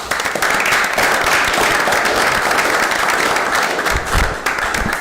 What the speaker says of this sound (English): Please join me in giving them a round of applause for their incredible effort.